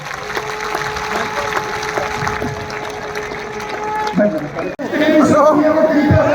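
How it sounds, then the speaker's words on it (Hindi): At a political rally in Jind, a crowd applauds to welcome a politician, with dense clapping and crowd chatter under an amplified voice. Talking takes over near the end. "जोरदार तालियों से उनका स्वागत तो जरूर करो भाई"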